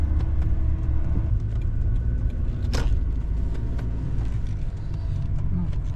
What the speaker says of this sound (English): We'll see how the truck does.